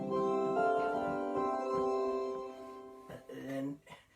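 Electronic organ flute stops joined by an 8-foot string stop hold a rich, sustained chord for about three seconds, then cut off as a voice briefly speaks.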